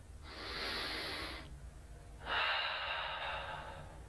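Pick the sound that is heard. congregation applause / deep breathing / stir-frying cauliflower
deep breathing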